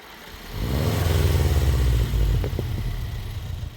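A Subaru WRX with stock headers gives a short, deep rev that rises, holds briefly and settles into a rough idle, close and fairly loud.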